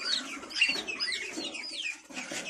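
Chickens, including a young bird with weak legs, make chirpy clucking calls among other poultry at a farm with geese, ducks and rabbits, moderately close and continuous, with no talking.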